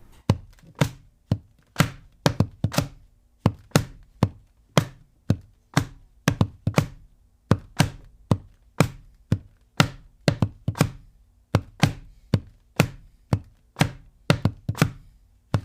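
A foot taps on thumbtacks during a drum recording, picked up by distant mics, giving a steady series of sharp clicky thuds in a loose repeating rhythm throughout, with no talking.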